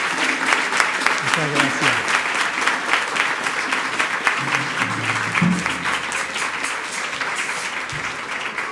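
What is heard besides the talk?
applause for the priest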